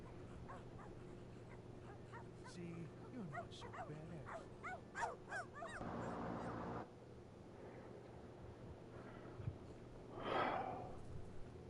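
Puppet dogs in the horror video game My Friendly Neighborhood whimper and yip in a rapid run of short, rising cries over a low game drone, with a louder squeal near the end.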